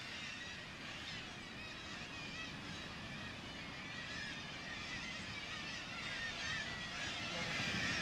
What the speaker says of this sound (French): Toutes les conditions sont réunies pour que les mouettes tridactyles prospèrent.